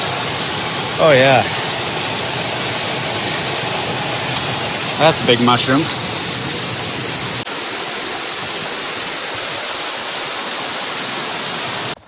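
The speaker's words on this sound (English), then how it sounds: "Water's rushing." Forest stream in Olympic National Park rushing steadily as broadband noise, loud and close throughout, while someone talks briefly twice over it.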